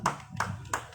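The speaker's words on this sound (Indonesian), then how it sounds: "tepuk tangan buat kita semua" Three separate hand claps, close and sharp, evenly spaced over about a second at a small fan gathering, with no other sound around them.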